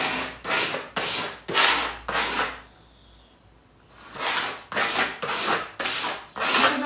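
Paint being rubbed with rhythmic back-and-forth strokes onto a textured homemade photography backdrop, loud and close, with a brief pause midway before the scrubbing resumes.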